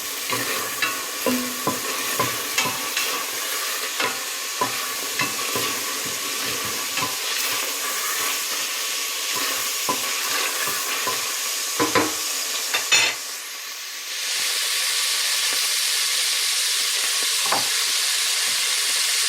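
Meat and chickpea stew ingredients are stirred and fried in oil in a pot, with continuous loud sizzling and a spoon scraping and clinking. The hiss swells sharply partway through and stays strong to the end.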